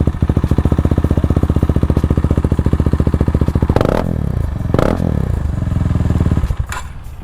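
Close up, a KTM Duke 390 motorcycle exhaust thumps in a rapid, even idle, then gives two short revs before settling back to a rough, loud idle.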